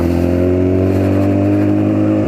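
A Honda Fireblade motorcycle engine revs loudly and close, a dense harmonic roar held steady for a couple of seconds before easing off right at the end.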